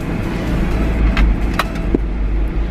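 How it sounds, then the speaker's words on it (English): Steady low road rumble of a car moving through heavy traffic, heard from inside the cabin, with a few brief clicks and knocks. "There are so many cars."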